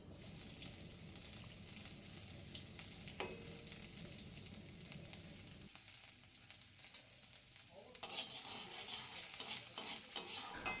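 Chopped garlic frying in white oil in a kadai, a steady broad sizzle with scraping stirs; the sizzle briefly drops away mid-way, then returns brighter and louder with clinks near the end.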